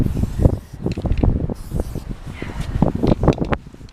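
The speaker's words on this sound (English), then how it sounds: "Here's Ben just spraying around the anchor plates so that we can take them off and know where to dig." Bursts of spray paint marking the ground around polytunnel anchor plates outdoors, irregular hissing puffs close to the microphone amid rustling and wind.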